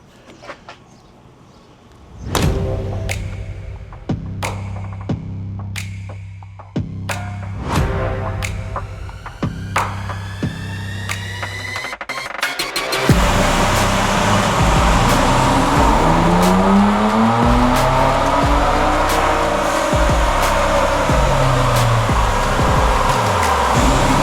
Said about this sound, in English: start it up, move it to the dyno.